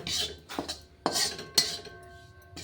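A metal spoon stirs and scrapes wheat flour as it roasts in a pan for sheera, giving a few distinct clinking strokes against the metal with quiet pauses between them.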